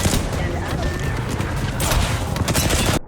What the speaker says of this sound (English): Completely submerged in enemy fire